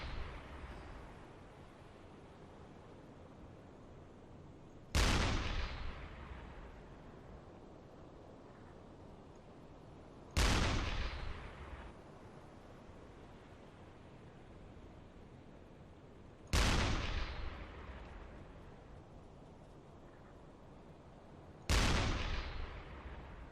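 Deck gun of a U-boat in the UBOAT naval video game firing on a ship: four heavy booming shots spaced about five seconds apart, each with a long rumbling decay over a quiet background of wind.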